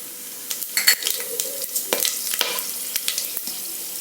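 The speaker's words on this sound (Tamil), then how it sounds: "இப்போ இந்த பட்டை, கிராம்பு, ஏலக்காய் இதோட போடுறேன்." Cinnamon, cloves, cardamom and cumin crackle in hot ghee and oil, with sharp spoon scrapes and stirring clicks over a soft steady sizzle, close and fairly loud.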